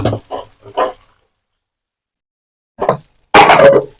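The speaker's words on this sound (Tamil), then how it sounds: "மிக்ஸி கழுவுன தண்ணியும் ஊத்திடலாம்." Water used to rinse ginger-garlic paste from a mixer jar poured into a pot of crab curry: a few short soft sounds, then a close, loud, splashy pour lasting under a second near the end.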